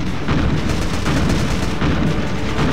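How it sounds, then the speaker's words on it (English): Artillery barrage in the video game Pacific Gunner, a dense, loud, continuous rumble of overlapping booms and blasts with no pauses. "Yeah, we're barraging them."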